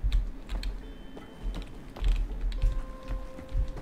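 Computer keyboard typing from someone playing Tomb Raider on a PC a couple of feet away: irregular clicky keystrokes with faint mechanical rattles, moderately close, over a low rumbling background hum.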